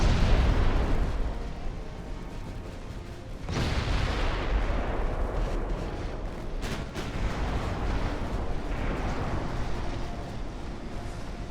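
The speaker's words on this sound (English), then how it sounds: "Oh, that's a double ammunition detonation." A double ammunition detonation in the naval battle game Ultimate Admiral: Dreadnoughts, a heavy, booming blast that swells again midway into a long rumbling roar with scattered sharp pops, loud and close, no speech.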